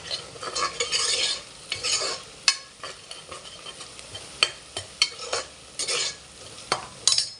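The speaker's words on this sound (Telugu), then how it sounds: "కొంచెం గోల్డ్ కలర్ వచ్చేంత వరకు అల్లం కూడా మంచిగా ఆయిల్లో వేగనివ్వాలండి" Onion, green chili and ginger sizzle and fry steadily in hot oil for a mutton curry, with loud, repeated stirring scrapes and clinks of a utensil against the pan; no voices.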